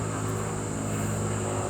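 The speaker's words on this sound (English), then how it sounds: "Airplane overhead." Airplane passing overhead, a steady broadband engine drone with a low hum that stays even throughout.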